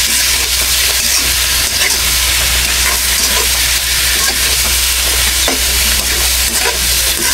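Food being stirred in a hot sizzling pan, a loud steady hiss with scraping and clatter of a spoon moving through the mix.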